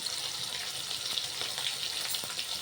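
Tomato and ginger paste sizzles steadily in a frying pan, a continuous close hiss with faint crackles and no talking.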